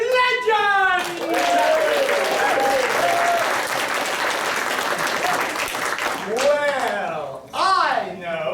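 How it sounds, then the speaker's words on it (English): An audience at a live improvised Dungeons & Dragons show applauds the heroes, a sustained burst of clapping with voices talking over the start and end. "Let's have a round of applause for our heroes of legend!"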